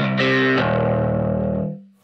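An inexpensive bass amp on its overdrive channel gives a loud, distorted bass note with a gritty attack that sustains for about a second and a half, then fades out.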